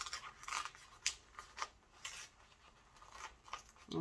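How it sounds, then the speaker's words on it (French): Protective transfer paper peeling and tearing off a customized tote bag during a Cricut craft demo, heard as close, dry scratchy rips and rustles in short bursts alone, with a few sharper tugs. "mon papier de protection, il fait que de se... Il fait que de se déchirer"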